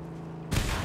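A shotgun fires in the post-apocalyptic driving game Mad Max, a sudden loud broadband blast halfway through that booms on after a quiet hum, with no talk.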